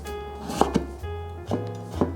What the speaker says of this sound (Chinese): 把红萝卜切片，这样子站得比较稳